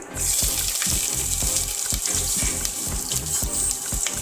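Ginger frying in hot oil with tempered cumin, black pepper and cinnamon for a mixed vegetable pulao, a loud steady sizzle with a regular beat of stirring scrapes underneath.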